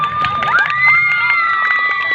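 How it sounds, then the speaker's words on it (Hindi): A crowd of children at a quiz competition in a Karachi museum cheers and shouts continuously, a dense, lively roar of young voices with whistly high cries over scattered claps. "तालियां बजा दें इनके लिए ज़रा जोरदार।"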